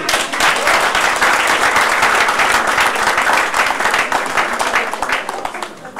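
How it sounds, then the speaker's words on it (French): Guests at a civil wedding ceremony break into dense, loud applause, many hands clapping together in a sustained close wash that fades slightly toward the end. "Applaudissez."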